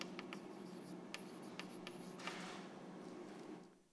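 Chalk or marker scratching across a board during a physics lecture, a run of short scraping strokes and taps over a steady hiss of room noise, fairly faint and with no voice.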